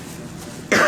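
A single sharp cough bursts out at the very end, loud and close, after a moment of quiet room tone.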